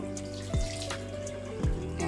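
Running tap water fills a sink for an evening face-cleansing routine, a steady close trickle broken by two brief splashing gurgles.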